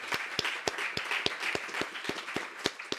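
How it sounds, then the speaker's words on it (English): Audience applause at a European conference session: a steady run of sharp, evenly spaced hand claps over a soft room wash, close and moderately loud, with no one speaking. "let's give him a round of applause"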